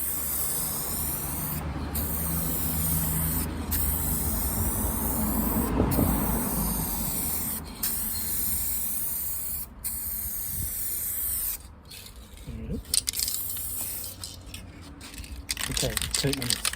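Repeated bursts of aerosol spray paint coating the rusted boot of a Mercedes SLK R170 outdoors in wind, each long hissing pass broken by short pauses, close and loud, with brief talk in between.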